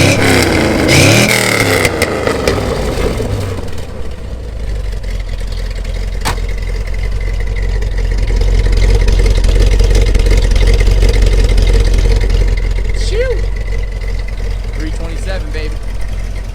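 Numbers-matching 1965 Corvette Stingray with a 327 small-block, engine idling with a deep, loud exhaust rumble and a couple of revs, and people talking over it at the start.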